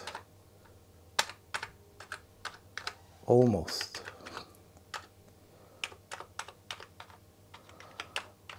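Clicking keystrokes on an Amiga 600 computer keyboard under repair testing, scattered irregular taps at close range over a low steady hum, with a brief spoken word partway through.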